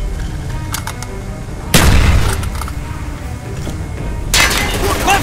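A grenade explosion and gunfire in the video game Call of Duty Black Ops: two loud, close booms with rattling shots between them over a constant battle din.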